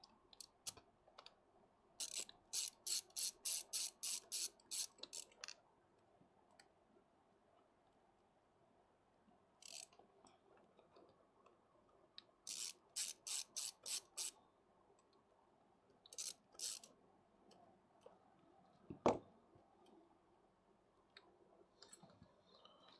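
Work on a laptop to remove the screws holding a hinge. Small, close clicks and ticks of the tools come in quick bursts with pauses between them, and one louder knock stands out near the end.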